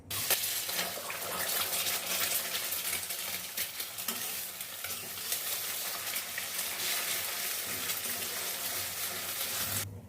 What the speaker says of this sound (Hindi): अंडा को थोड़ा पहले भूंज के निकाल लेंगे।